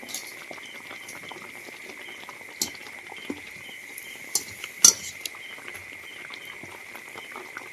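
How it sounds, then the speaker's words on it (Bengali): A banana flower chop deep-fries in hot oil at home, giving a soft continuous bubbling and sizzling with occasional sharp metallic clinks of a utensil against the pan. "চপটা একটু আমি লাল লাল করে ভাজি একটু লাল লাল করে ভাজলে কী হবে চপটা ভিতর থেকে ভাজা হবে ভালো"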